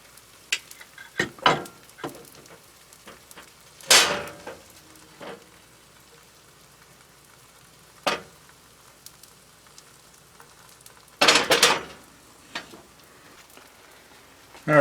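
Thin crepe batter poured into a hot pan, sizzling softly while a utensil scrapes and taps in occasional sharp bursts, with quiet gaps between the sounds.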